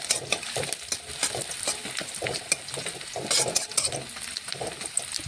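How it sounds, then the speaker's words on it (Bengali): Chopped onions with tomato fry in a pan while a spatula stirs them, giving irregular clinks and scrapes over a continuous sizzle; close, busy and steady throughout, with no speech. "এখন পেঁয়াজটা আবারও নাড়াচাড়া করে নিচ্ছি"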